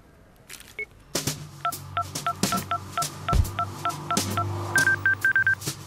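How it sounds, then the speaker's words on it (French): A landline telephone is dialed by keypad, producing a quick run of about a dozen short, clear DTMF beeps. The tones start after a brief clunk as the receiver is picked up. "je rappelle Bergère sur le fixe"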